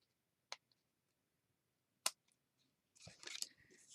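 Scissors trimming the edges of paper Christmas gift tag strips: two crisp snips about one and a half seconds apart, quiet and close, followed by a short burst of rustling.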